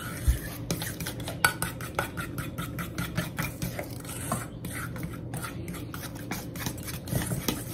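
Sugar cookie dough being mixed in a bowl, with a utensil scraping and clinking against the sides in quick irregular strokes, close and fairly quiet, with no one speaking over it.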